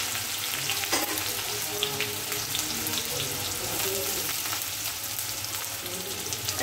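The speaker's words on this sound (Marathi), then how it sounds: "इथे तेल तापलेलं आहे, मी आता मिरच्या घालते, उडतं आहे खूप अंगावरते" Green chilies and onion fry in hot oil in a home kitchen, giving a steady close sizzle and spattering crackle with occasional stirring clatter, continuous and moderately loud without talk.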